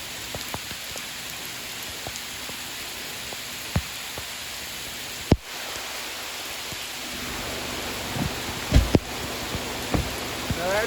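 Steady heavy downpour on a creek at night during flathead catfish fishing, a dense continuous hiss of rain with scattered close drops and taps, no talking.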